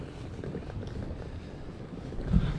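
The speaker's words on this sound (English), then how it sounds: "God, it's a bit windy." Steady low wind rumble buffeting the microphone outdoors beside a river in Bremen, Germany, a continuous dull roar with a brief louder gust near the end.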